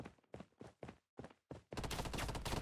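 Video game gunfire: a run of sharp separate shots, then a dense sustained burst of rapid fire that gets louder toward the end, with no talking.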